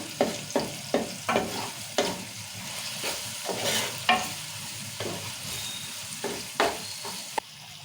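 A spoon scrapes and stirs through onion and tomato masala for mutton curry in a pan, making a steady soft sizzle broken by regular, sharp clinks and scrapes, close and alone.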